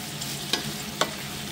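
Squid sautéing in a pan, a continuous close sizzle punctuated by two sharp spatula scrapes about half a second apart.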